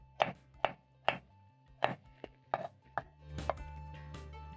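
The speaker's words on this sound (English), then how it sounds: "I'm going to place aside and slice my carrots, which I've already peeled" A knife slicing peeled carrots into half moons on a cutting board, about eight crisp close chops in an uneven rhythm, with no talk.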